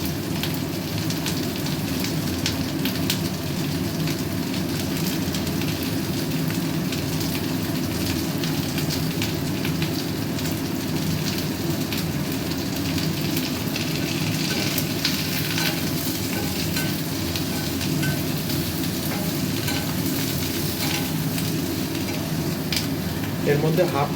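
Potato and pumpkin pieces sizzle steadily in hot oil in a pan for khichuri, a continuous dense crackle and hiss, close and even, with occasional stirring clinks and no talk.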